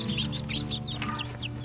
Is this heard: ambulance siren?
no